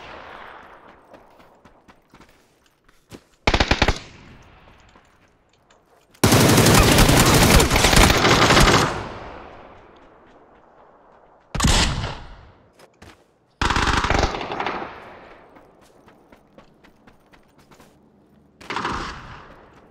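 Gunfire in the video game PUBG comes as loud bursts of automatic fire, with a sustained long volley in the middle and several shorter bursts and single shots in between. A low gameplay background runs throughout.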